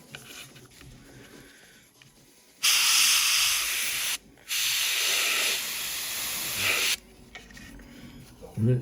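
An airbrush sprays paint onto a 1/48 scale Airfix Buccaneer model kit, with two loud sustained hissing bursts of about a second and a half and two and a half seconds separated by a brief pause, set against quiet room background.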